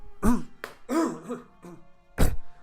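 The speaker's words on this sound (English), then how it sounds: "the damn zombies, their ashes makes me cough." Several close, rough coughs and throat-clearing sounds in quick succession, with short pauses between them.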